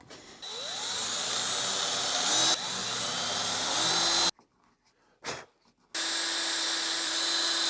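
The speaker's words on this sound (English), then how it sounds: "I just had to drill 4 holes." A power drill whines loudly in several long bursts, its pitch climbing as it bites into a door, separated by short pauses and quiet handling noises.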